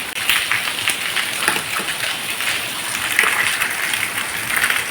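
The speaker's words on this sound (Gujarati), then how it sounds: "આજ બહુ જ વરસાદ પડ્યો છે" Heavy rain falling in a village, heard as a steady, dense hiss with occasional louder patters, continuous throughout and without speech.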